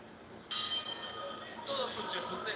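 A boxing bell rings faintly to open the fourth round at a boxing match, two soft strikes ringing out over arena background noise.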